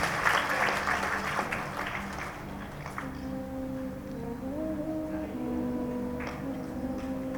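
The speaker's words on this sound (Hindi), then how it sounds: "चलिए जोरदार तालियां करिए फलक के लिए" A school audience at an Independence Day cultural programme of a girls' college claps for a student, the burst loudest in the first few seconds and then thinning into scattered claps beneath sustained tones.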